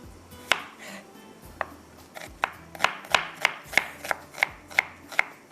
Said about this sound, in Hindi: यहाँ पर प्याज को मैं कटिंग कर लेती हूँ